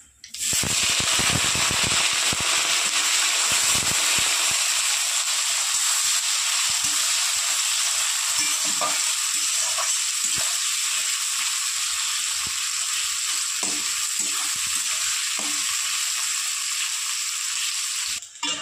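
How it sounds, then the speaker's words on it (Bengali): Chopped onion from two large onions fries in hot oil with a loud, continuous hiss and crackle, close and unbroken for the whole stretch, with occasional soft stirring taps. "দিয়ে দেবো পেঁয়াজ কুচি"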